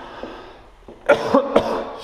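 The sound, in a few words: cough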